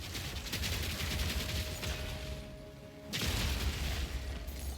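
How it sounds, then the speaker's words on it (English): Dense bursts of video game explosions and crackling blasts, loud and continuous, with a brief lull before another heavy rumbling eruption. "Just from like a couple explosions."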